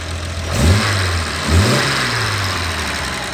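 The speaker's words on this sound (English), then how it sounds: "Here's a look at the engine running." A 1969 Jaguar E-Type 4.2 fixed-head coupe engine runs close by, blipped twice into quick revs that fall back to a steady, throaty idle, with no talking.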